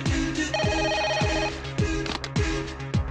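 A telephone rings loudly in a repeating melodic ringtone pattern, with several tonal phrases cycling over the clip and no speech.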